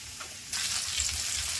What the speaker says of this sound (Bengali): মাছটি ভাজা হয়ে গেছে, আমি তুলে নিই।